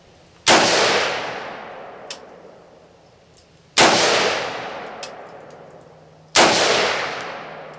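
Three loud, sharp rifle shots from a Savage MSR15 Recon firing hand loads, spaced a few seconds apart outdoors, each with a long decaying echo tail.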